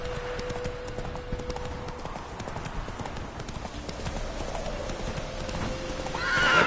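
Roach the horse galloping in the video game The Witcher 3, a steady rapid clip-clop of hooves close by, with a whinny and a rising swell near the end.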